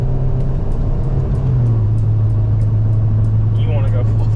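A car fitted with a built Honda K20/K24 engine drives along, giving a steady, loud low drone that holds throughout, with a slight shift in pitch partway through and faint voices in the background.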